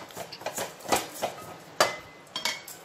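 A cooking pot and its metal lid handled while gongura chutney is made over a medium flame, a string of light clinks and knocks at irregular intervals, close but fairly quiet, with no talking.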